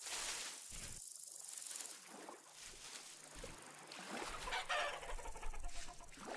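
A chicken in the video game Vintage Story clucks in short, soft bursts over a steady outdoor game ambience, fairly faint and with no voices.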